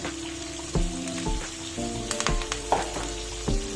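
Curry leaves hiss and crackle in hot oil alongside chicken fry masala, a steady close sizzle broken by sharp pops and occasional stirring scrapes.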